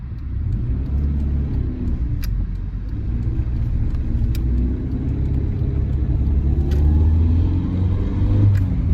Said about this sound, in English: like that little uphill, it just doesn't grab at all. It's just burning the clutch